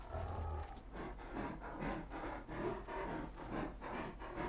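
A dog panting heavily in Grand Theft Auto 5, a steady rhythmic series of breaths close up and fairly loud, running continuously with no talk over it.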